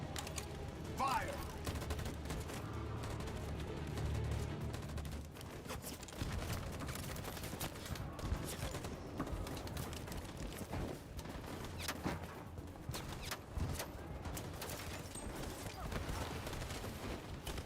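A long, dense volley of gunfire erupts in Detroit: Become Human, with rapid overlapping shots and bursts continuing steadily and loudly throughout, set against mechanical clatter.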